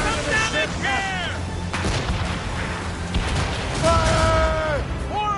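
Ship cannons fire in a naval battle in Assassin's Creed Rogue, heavy booming volleys rolling under loud shouted voices and a steady rumble of wind and sea.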